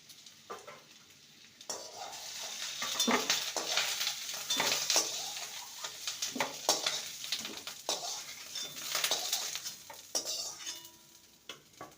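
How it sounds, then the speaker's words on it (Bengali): Taro pieces frying in a pan, a continuous close sizzle with frequent scraping stirs and metallic clinks of a utensil against the pan throughout. "কচুগুলোকে মিনিট দুই মিনিট ভালো করে ভেজে নিয়েছি"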